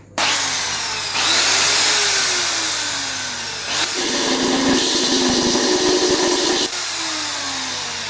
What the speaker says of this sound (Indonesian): Oke teman-teman, kita mulai bor untuk kacanya,